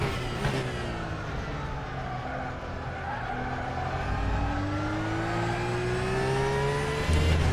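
Race car in RaceRoom braking hard with ABS, a loud close engine note sweeping downward as the tyres scrub and squeal under steady heavy braking, with no talk.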